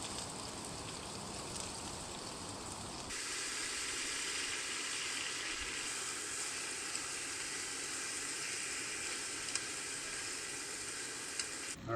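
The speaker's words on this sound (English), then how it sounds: "now I got those chipotles cooking up in that rendered beef fat" Chipotle peppers sizzle in rendered beef fat over an outdoor cooking fire in the Appalachian woods, giving a steady, bright crackling hiss that grows fuller after a few seconds and holds on its own.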